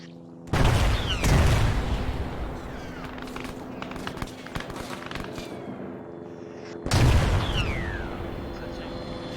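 Gunfire in the military video game Arma 3 comes as two loud, booming bursts of shots several seconds apart, with rattling echoes and scattered shots trailing between them.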